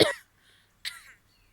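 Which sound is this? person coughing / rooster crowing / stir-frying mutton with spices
person coughing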